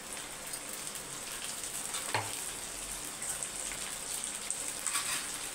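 Onion and tomato paste sautéing in oil in a pan, a steady close crackling sizzle with a brief clink or scrape partway through, continuous with no talking.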